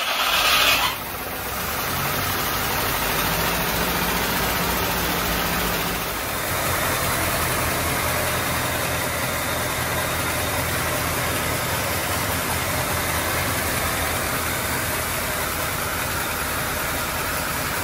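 A 1939 Cadillac engine, long disassembled, fires up on prime gas and settles into a steady, loud, even idle that continues throughout.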